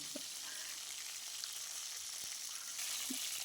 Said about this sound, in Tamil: இப்போ இந்த மாதிரி நல்லா வதக்கிக்கிட்டே இருங்க எண்ணெயிலையே அது கலர் சேஞ்ச் ஆகிக்கிட்டே இருக்கும்